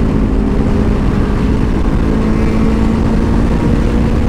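A big sport bike motorcycle on a ride toward Clark rushes past amid steady loud road and wind noise, its engine drone blending into the constant roar with no clear rise and fall.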